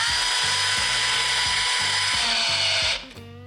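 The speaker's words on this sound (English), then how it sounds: "We'll go ahead and tighten this down, and then we'll retighten our headlight screws." A ratchet tightens a bracket screw on a Harley-Davidson Fat Bob outer fairing, steady loud clicking in an even rhythm that stops abruptly near the end.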